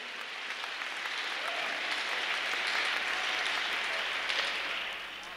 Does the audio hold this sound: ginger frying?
no